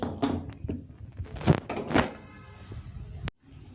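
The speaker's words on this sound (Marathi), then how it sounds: "आता मी कुकर लावून घेते।" Pressure cooker lid being set and closed: several hollow metallic knocks and clunks, then a scraping twist and a final click, close up and without talking.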